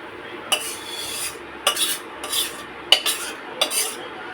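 Boiled rice and dal being stirred into spiced khichuri in a metal pot, a spoon scraping and clanking against the pot in several separate strokes with short pauses between them.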